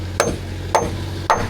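Three evenly spaced hammer blows strike nails into wood at a house build, each a sharp, close knock with a short ring, over a steady low hum and no talk.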